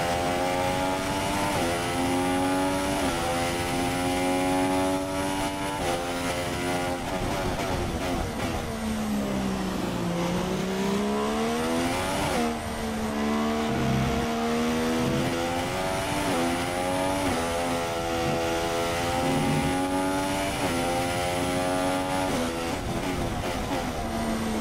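A Williams Formula 1 race car in F1 2016 career mode at Melbourne, Australia: a loud, continuous high-pitched engine whine that rises and falls through gear shifts and throttle changes for the whole stretch, with no one talking.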